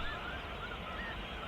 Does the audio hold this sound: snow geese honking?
yes